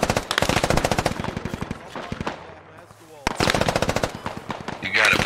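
An M249 light machine gun in the military shooter game Squad fires loud, rapid, close bursts, one long burst, a short pause, then another sustained stream of automatic fire, with faint radio chatter in between.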